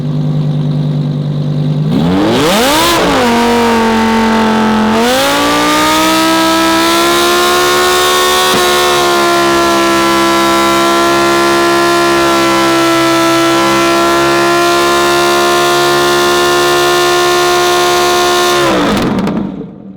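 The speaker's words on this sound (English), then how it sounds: "The very first Lamborghini tied down standing burnout." A Lamborghini strapped in place for a standing burnout revs hard, its engine note climbing and holding in a loud, sustained howl with steady harmonics before cutting off near the end.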